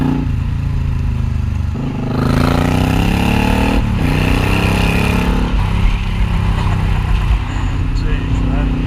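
A Suzuki Intruder 800c Boss cruiser motorcycle engine revs under throttle, rising and falling in pitch several times, loud and close, with a rider talking over it.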